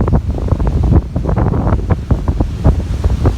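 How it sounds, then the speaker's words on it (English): Ocean waves surging at a flooded shoreline during a very high tide on a stormy morning, a loud, continuous churning roar mixed with heavy wind buffeting the microphone. "we probably won't get very far with the crazy high tide"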